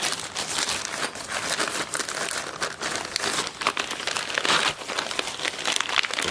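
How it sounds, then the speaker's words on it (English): Aluminium ECS hub centric rings, 66.5 size, pulled from a plastic bag, giving steady close crinkling and rustling throughout with no talking. "let me just take it out the bag."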